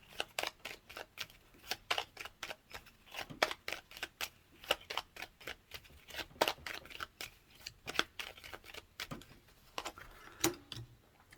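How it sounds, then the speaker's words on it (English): Rapid crisp riffling of Lenormand cards being shuffled, repeated bursts in a steady rhythm, close and fairly loud, no voices. "So let me go ahead and shuffle here"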